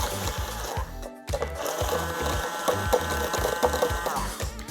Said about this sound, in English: I'm gonna use my immersion blender and just kind of blend these ingredients up to get like a thick egg mixture